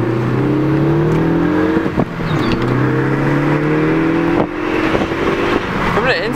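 Ford ST with stock-diameter exhaust piping revs steadily, a droning engine note with rising harmonics across several throttle blips, heard from outside the car, alongside background noise.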